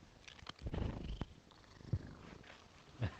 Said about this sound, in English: Just heard Pippin purr